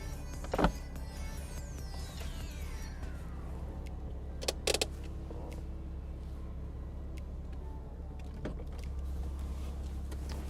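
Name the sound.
Porsche Boxster 987 S electric convertible roof lowering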